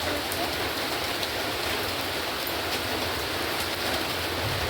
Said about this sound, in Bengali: বাইরে হচ্ছে বৃষ্টি হচ্ছে আর আমাদের টিনের ঘর দেখতেই পাচ্ছ টিনের ঘরে বৃষ্টি হলে প্রচুর আওয়াজ হয়